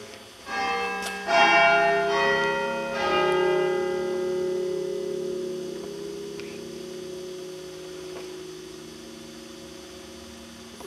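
Church bells in a Burgundy bell tower ring out clearly with a couple of strikes early on, then long humming overtones decay slowly over a steady background hum, with no talk.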